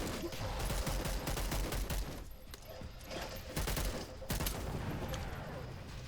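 Gunfire from the zombie action game Dead Island 2, a sustained barrage of rapid shots and bursts that runs loud and close for several seconds with no gaps, with faint game noise underneath.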